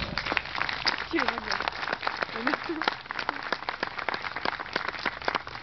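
Outdoor crowd applause at a scoreboard dedication on a sports field, many hands clapping in a dense, steady patter for several seconds, with a few voices calling out faintly underneath.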